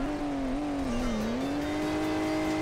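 A steady car engine growl in the video game Hill Climb Racing 2 holds a low, slightly wavering pitch throughout, loud and continuous like idling and revving gently.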